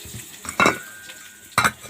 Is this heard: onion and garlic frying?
yes